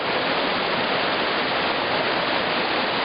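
River water rushing steadily near the Zhenets waterfall in the Carpathians, a dense, even roar of flowing water with no pauses, close and fairly loud.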